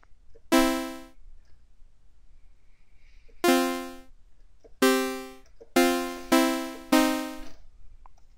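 Ableton Live's Analog software synthesizer plays a short phrase of bright, buzzy harmonic notes: one isolated note, a pause, then a second note and a quick run of four more, each with a sharp attack and fading decay, no talking.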